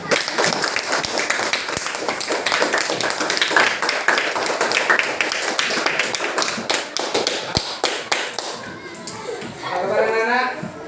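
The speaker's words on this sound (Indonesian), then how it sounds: "Sekarang sama-sama kita tepuk tangan dulu ya semua." A group of schoolchildren claps together at a class gathering, a dense, lively patter of many hands close by that runs for several seconds before easing, with voices chattering underneath and rising at the end.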